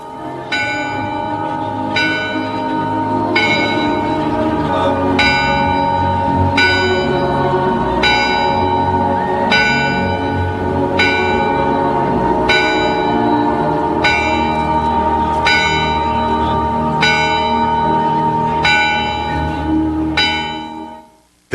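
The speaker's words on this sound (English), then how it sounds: "We leave you now with bell-ringing ceremonies here in New York City this evening to honor those who died in the attack on America." Church bells ring out in New York City for an evening memorial ceremony, loud repeated strikes about every second and a half with long overlapping resonant hum, continuing alone for around twenty seconds before fading out.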